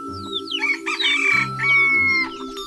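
Pet chickens kept on a mountain property cluck and a rooster crows loudly and close by, several overlapping calls in a continuous, busy stretch.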